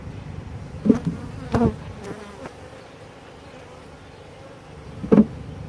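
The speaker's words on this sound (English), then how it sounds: "we have bees on the frame, and looks like there's actually some honey in there." Honey bees buzz on a hive frame during a backyard nuc install, a low steady hum broken by a few sharp knocks and bumps from handling the frame.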